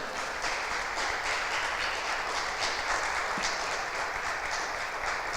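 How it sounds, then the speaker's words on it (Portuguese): Steady, dense applause from a church congregation at a sermon on courage overcoming fear, sustained and even throughout without breaks, filling the room at moderate level. "Dá uma salva de palmas a Jesus Cristo, amém?"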